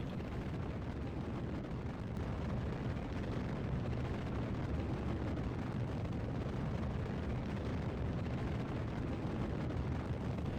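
A rocket launch roars as one continuous, even rumble of rocket engines, broad and steady with no pauses or voices throughout.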